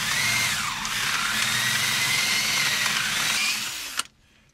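A drill grinds steadily and loudly at a seized fixing on the brakes of a barn-find Austin Maestro, the motor pitch dipping under load before it cuts off abruptly, leaving near silence.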